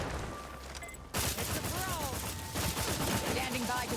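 Submachine gun fire from the video game The Outer Worlds chatters in dense rapid bursts, loud and continuous, over background game noise with brief tonal electronic chirps.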